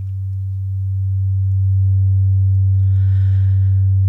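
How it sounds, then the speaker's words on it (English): A Future Sounds Systems Cric synthesizer oscillator plays a pure, steady low sine tone that hums continuously, growing slightly louder, with a faint soft hiss appearing briefly near the end. "We'll start with the sine wave."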